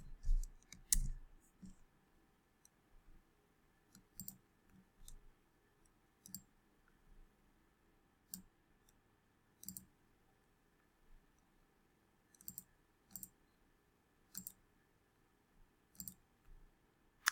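Sharp, light clicks from a computer mouse arrive singly and in quick pairs, spaced irregularly across a quiet background with a faint steady hum.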